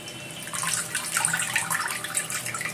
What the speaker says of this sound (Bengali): জলটা ঝরিয়ে নিই, রেখে দিলাম।